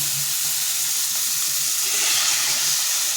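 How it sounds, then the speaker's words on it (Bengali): Water pours into a simmering Bengali curry seasoned with dried red chilli and nigella seeds, a steady broadband rush over the pan's sizzle, close and continuous, with no voices. "এবার দিয়ে দেবো এটাতে জল।"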